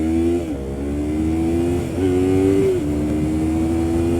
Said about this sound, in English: quite a fun motorcycle to accelerate hard